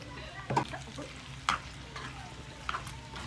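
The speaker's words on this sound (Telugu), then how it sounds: "ఇదైతే కొంచెం ఫ్రై అవ్వాలి" Mango and chicken pickle frying in a kadai with salt and turmeric, a soft low sizzle broken by three sharp scraping stirs of a spoon against the pan.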